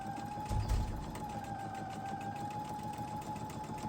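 A sewing machine runs steadily while sewing a rectangle onto a quilt block, a close, even mechanical hum with a brief low bump near the start.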